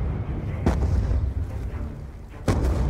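Mortar fire in the Call of Duty Black Ops 2 campaign, two sharp thudding blasts spaced a couple of seconds apart over a steady low rumble of battle.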